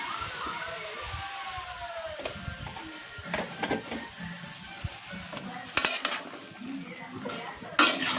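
Metal utensil clinks and scrapes against a cooking pot as food with salt and turmeric is stirred, scattered knocks over a low background hiss, with two louder clattering bursts near the end.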